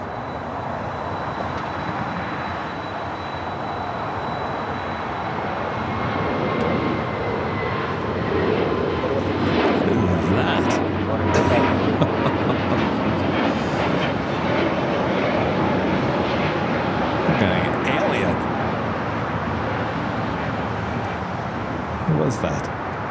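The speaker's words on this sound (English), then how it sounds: "That is a FedEx 767. Making that left-hand turn on the Alpha 8." A FedEx Boeing 767 swinging through a left turn on a taxiway at LAX, its engines giving a steady, broad roar that builds slightly partway through and holds up close, with voices talking over the noise.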